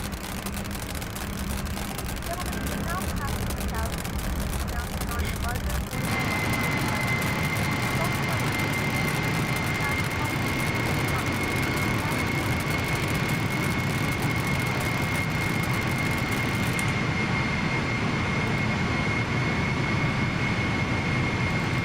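An Embraer E195 jet in X-Plane 11 spools up and takes off with a loud, steady engine roar that rises sharply partway through and then holds as a constant rumble with a high whine.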